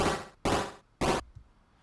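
Three harsh, noisy chiptune bursts in quick succession, each a short crunchy impact like a video game enemy being struck, separated by brief silences.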